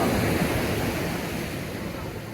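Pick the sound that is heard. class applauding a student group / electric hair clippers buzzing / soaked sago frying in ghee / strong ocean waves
strong ocean waves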